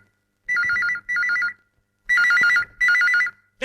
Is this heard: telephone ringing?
yes